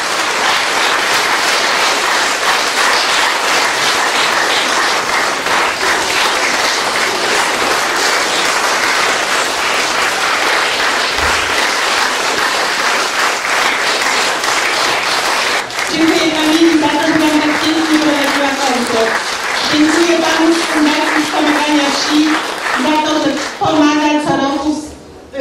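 Applause from an audience at an outdoor Chopin concert by the Bug river, a steady broad wash of clapping for the first fifteen seconds, then giving way to someone speaking over the PA.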